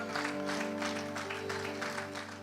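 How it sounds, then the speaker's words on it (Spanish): Church congregation applauding after a sermon, soft and distant rhythmic clapping under a sustained organ or keyboard chord, fairly faint throughout. "Dele un aplauso fuerte al Señor."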